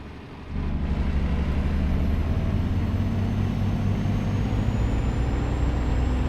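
A Scania S 370 truck, a fourteen-year-old vehicle under restoration, starts up and runs: a quiet moment, then a steady, loud, rumbling diesel drone that continues to the end.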